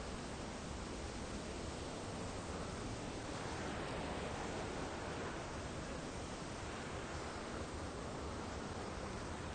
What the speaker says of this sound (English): Canal lock doors are open to let the water come through.